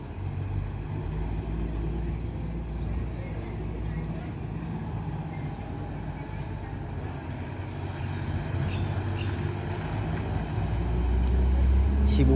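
A bus sets off from West Sumatra toward Jakarta, a steady loud engine rumble and road noise that build slightly toward the end.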